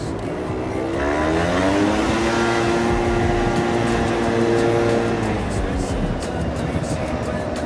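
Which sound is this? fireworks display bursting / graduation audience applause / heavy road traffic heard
heavy road traffic heard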